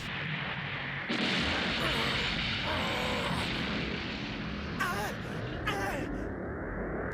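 A loud, sustained anime energy beam attack, the Special Beam Cannon from Dragon Ball Z, roars for several seconds, with bright zapping whooshes cutting through near the end.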